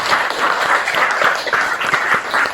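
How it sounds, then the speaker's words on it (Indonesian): Brief burst of clapping from a classroom group for a student in a mathematics lesson, a short, fairly loud flurry of hands with uneven rhythm. "Tepuk tangan untuk Ristri"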